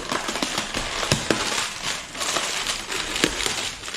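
Paper packaging from an aquarium green-water device is poked and handled, giving continuous close crinkling and rustling with scattered sharper crackles and no talk.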